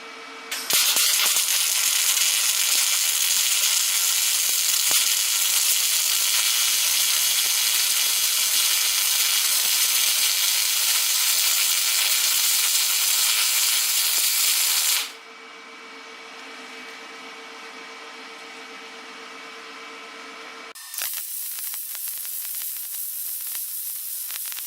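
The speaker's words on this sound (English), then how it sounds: "so we're going to go ahead and weld it on up." Welding a wall mount receiver hitch for a bike rack: a loud, steady close-up crackling sizzle runs unbroken for about fifteen seconds, then drops to a quieter hiss and resumes briefly near the end, with no talking.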